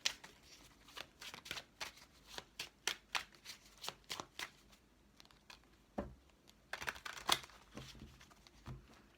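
Oracle cards being shuffled for a tarot-style reading, a run of quick crisp riffling bursts in an irregular rhythm, close and fairly quiet, with a brief pause and then a final flurry of shuffles.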